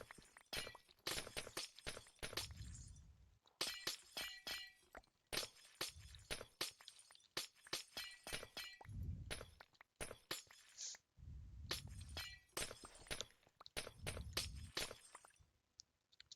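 Minecraft ice and glass blocks smashed in quick bursts, bright shattering crashes repeating in clusters with brief pauses between, close and loud, no voices.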